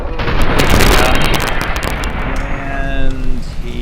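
Gunfire aimed at the player in Fallout New Vegas crackles in a rapid burst of sharp shots, loud and dense at first, then trailing off into scattered reports with a fading echo.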